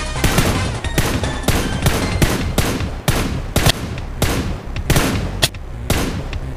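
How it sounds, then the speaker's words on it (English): Rapid gunfire from the PUBG: New State video game, a dense series of loud, sharp shots in quick bursts with short gaps, close and continuous throughout. "Oh, gunshots."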